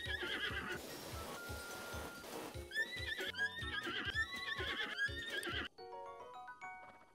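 A horse in the video game Zelda Breath of the Wild whinnies loudly several times over clip-clopping hooves and game music, the neighs rising and falling before a quieter tail.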